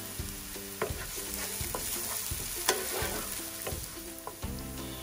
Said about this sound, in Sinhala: මම දැන් මේ හොඳින් කලවම් කරලා තරමක් දුඹුරු පැහැ වෙනකන් බැද ගන්නවා.